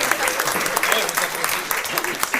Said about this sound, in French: Ça mérite, oui, une main d'applaudissement.